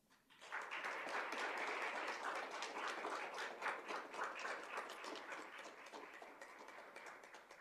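Applause for a student named Ethan at a Peoria Unified school board meeting, starting abruptly after a quiet moment and continuing as steady, fairly dense room clapping that eases off slightly toward the end.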